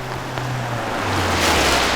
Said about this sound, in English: Tires roll through shallow water with a quiet hiss.